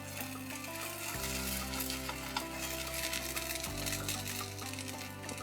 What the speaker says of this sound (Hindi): थोड़ा सा पक गया है, क्योंकि मैंने फ्लेम बहुत थोड़ी रखी थी, थोड़ी सी तेज़ करूँगी।